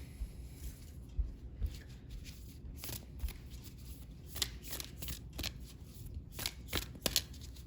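A Sacred Destiny Oracle card deck is shuffled by hand indoors, giving a quiet, steady riffle of soft card flutters with sharper slaps every second or so, close and alone without talk.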